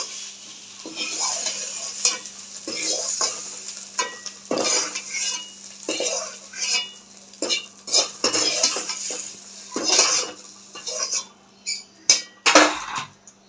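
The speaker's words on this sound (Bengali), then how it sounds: "এবার সয়াবিনটাও আমি তুলে নেব ভাজা হয়ে গেছে সয়াবিনটা তুলে নিয়ে" Fried soybean chunks are lifted out of an oily pan with a metal utensil, giving repeated close scraping and clinking strokes over a light background sizzle, with no talk.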